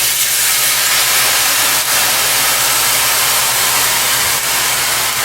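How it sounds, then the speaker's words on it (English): Brandy poured into a hot pan with grated garlic just after the heat is turned off, giving a loud, steady hiss of sizzling that runs unbroken throughout. "I'm going to turn the heat off and add about 1/4 cup of brandy"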